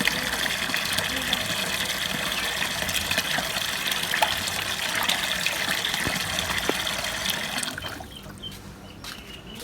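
Cold water gushes and splashes into a pot of hot water while beef paya is being cleaned, a continuous pouring rush that thins out near the end, with a voice talking over it.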